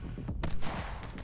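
A sniper rifle fires in My Friend Pedro, a sharp close report with a broadband crack around mid-clip, followed by a ringing tail over background game noise.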